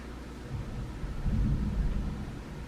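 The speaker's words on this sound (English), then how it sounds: "Oh, thunder's coming." Distant thunder rumbles low and steady through a stormy sky, swelling in the middle before easing off, with no voices.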